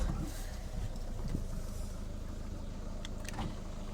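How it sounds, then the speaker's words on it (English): A Citroen C4 car engine runs steadily at idle with a low, continuous rumble close by, with a couple of faint mechanical clicks toward the end and no talking. "I might need to start the car."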